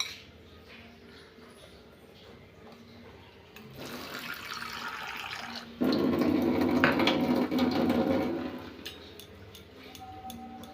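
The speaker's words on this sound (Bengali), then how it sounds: "সাবুটাকে আমি ভালো করে জলে ধুয়ে নেব।" Sago pearls are rinsed in water, a steady close splashing and sloshing that swells louder midway, then a running-tap rush that eases back toward the end.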